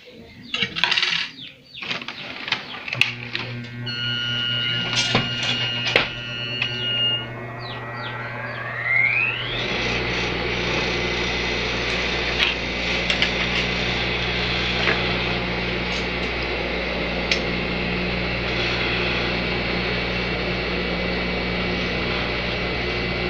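An overlock sewing machine fitted with a binder attachment sews bias binding onto fabric, with a few clicks and handling sounds first, then a rising whir into a steady, loud continuous hum.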